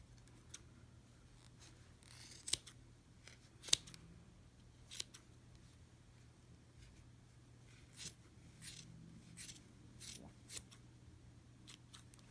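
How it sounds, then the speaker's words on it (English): Scissors snipping through yarn loops wrapped for a pompom, in a handful of short, crisp cuts scattered across a quiet room with a low steady hum beneath. "And then we're going to take that and cut these loops."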